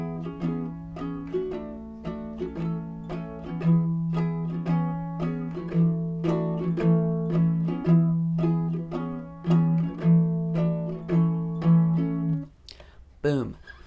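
A ukulele strums the chords of a song in a steady, bouncy rhythm, close and bright, then stops abruptly near the end with a brief handling noise.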